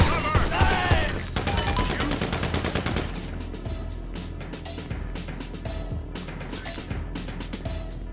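Rapid automatic gunfire rattles in bursts during a GTA mission at Humane Labs, dense and loud at first, then thinner scattered shots, with shouting voices in the mix.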